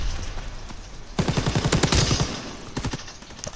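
Call of Duty WW2 machine gun fire, likely a Bren: a rapid, loud burst of evenly spaced shots in the middle, followed by a few shorter bursts with quieter game noise around them.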